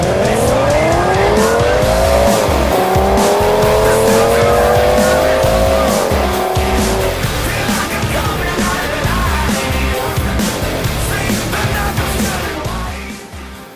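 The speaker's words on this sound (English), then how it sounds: "road course racing" Race cars on a road course at Mountain Range Raceway, including a pole-sitting Ford Mustang, roar past loudly with engine notes sweeping up and down through gear changes, tires squealing and engine noise blending into a dense continuous din.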